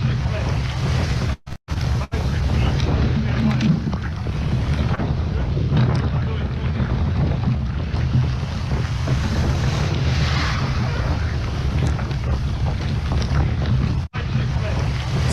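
Steady wind and sea wash surround an ocean rowing boat at sea on a calmer day, a continuous broadband rush with brief microphone dropouts and faint voices under the noise.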